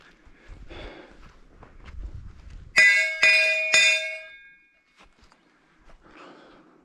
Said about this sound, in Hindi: कट के बाद इमीडिएटली आपको वो घंटी मिलती है